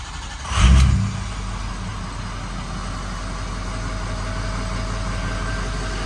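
A Ford 6.0 Powerstroke diesel with a high pressure oil leak and a hard, long start catches with a loud burst, then settles into a steady, close idle with no talking.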